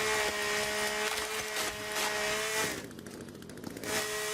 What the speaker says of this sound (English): So now, cutting a tree